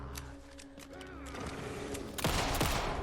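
In the video game Alan Wake II, a burst of close, loud gunfire cracks out over tonal background music and echoes.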